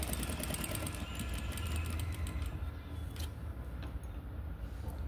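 A sewing machine runs steadily while stitching a fabric strip, its rapid mechanical whir continuous and close throughout.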